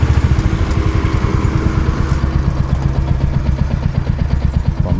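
A motorcycle engine runs in second gear down the winding Bannari–Thimbam ghat road, giving a loud, close, steady throbbing drone with constant pulsing, and no talk.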